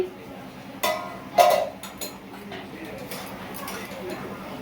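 Metal lid set onto a cooking pot while a Bengali curry of ridge gourd, potato and drumstick simmers, two clinks close together followed by softer kitchen rattles, with a voice talking around them.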